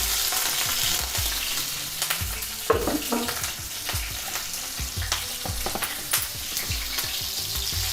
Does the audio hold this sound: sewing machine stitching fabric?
no